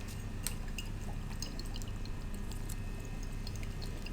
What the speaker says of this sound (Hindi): अब आप इसमें सोया सॉस डाल दें